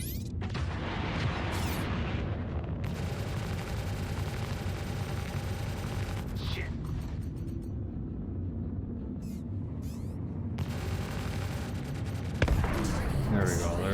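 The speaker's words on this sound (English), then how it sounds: "so we're gonna launch 2 more at him." Missiles launched from a Reliant Tana ship in the space game Star Citizen, sounding as loud bursts of roaring, booming fire over a constant rumbling engine bed, with a sharp blast near the end and a voice talking throughout.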